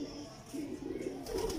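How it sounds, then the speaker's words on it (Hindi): Teddy pigeons, a pair offered for sale, cooing in low, soft, throaty bursts close by, with a faint murmur of background noise around them. "ये ओरिजिनल टेडी कबूतर है"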